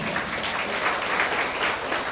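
Steady, dense applause from a large crowd at a company foundation day celebration, loud and continuous throughout with no pauses or voices standing out.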